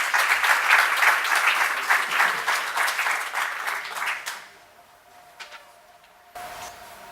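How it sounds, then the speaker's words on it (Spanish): An audience at a conversation on art, memory and reconciliation applauds the participants, dense clapping that fades out after about four seconds into near quiet with a few stray claps, then a low room hum returns. "Un aplauso para los concurrentes, por favor"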